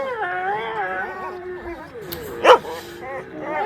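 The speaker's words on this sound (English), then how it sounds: "Precious was triggered by Princess's loud barking" A dog whines and yips in rising and falling tones, then lets out one sharp bark near the end, close by.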